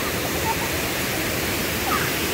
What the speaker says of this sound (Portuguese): Ele trouxe a gente aqui na cachoeira.